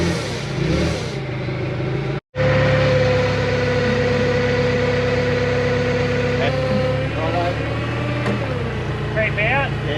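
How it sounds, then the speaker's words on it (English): A forklift engine runs steadily at idle while it lifts the engine out of a CAT 226B skid steer, close and loud with a few rev changes and a brief cut partway through, as people talk over it. "So I'll bring the forklift around and try to lift it in."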